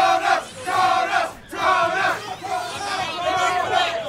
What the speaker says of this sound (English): The crowd has spoken.